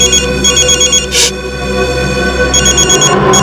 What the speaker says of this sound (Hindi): ये तो उसी के डब्बे का फोन है।